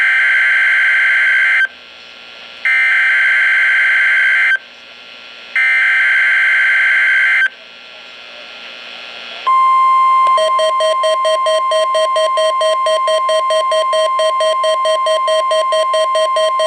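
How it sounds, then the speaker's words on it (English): A NOAA weather radio warning device sounds its weekly test alert, with loud alternating electronic beeps in a stepped pattern followed by a long continuous steady warning tone. "This is a weekly test of the NOAA weather radio warning device."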